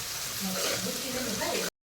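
A soft, even sizzle of spices frying in a pan for a chole gravy, steady for under two seconds before cutting to silence.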